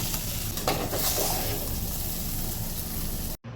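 Bitter gourd slices sizzle steadily in hot oil on low heat, a constant close frying hiss with a few soft stirring scrapes, then a brief break near the end.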